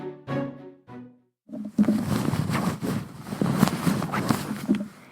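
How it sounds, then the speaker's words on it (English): Crisp new Brooklinen bed sheets rustle and crumple loudly and close up in a dense, continuous swishing texture, following a brief voice at the start. "That is the sound of my crisp, new, beautiful sheets that I just got from Brook Linen."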